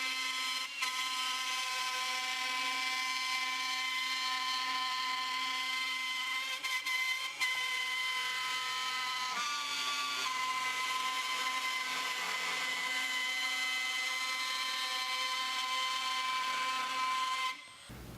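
A router fitted with a drill bit makes a final circular cut in wood, giving a steady, loud high-pitched whine with a dense buzzing drone that holds unbroken for nearly the whole span before cutting off at the end.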